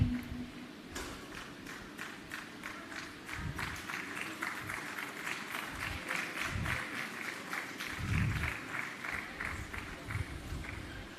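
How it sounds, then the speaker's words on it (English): An audience at a land titling ceremony applauds, steady clapping sustained for several seconds at moderate distance, with low thumps and a faint voice underneath. "Give her a round of applause, ladies and gentlemen."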